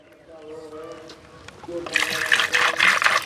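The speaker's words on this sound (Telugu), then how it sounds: "వేడి నీళ్ళు వంచేసుకుంటున్నాం, తర్వాత మంచి నీళ్ళు పోసుకుంటే ఈజీగా వచ్చేస్తాయి" Fresh water pours over boiled duck eggs in a pot, starting as a faint trickle, then swelling into a loud, close, rushing splash for the last second and a half.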